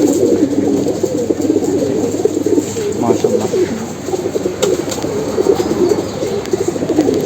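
A young Army pigeon, large with long wings and feathered feet, coos in repeated low, rolling, throaty calls close by, loud and continuous, with faint rustling in the background.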